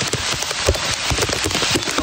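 Heavy rain falls during flooding in Provident Village, Marikina, during Typhoon Carina, a dense and steady downpour with close, irregular splashes and patters.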